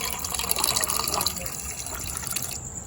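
Water pours and splashes steadily with a bright, trickling hiss, close by, then cuts off abruptly near the end.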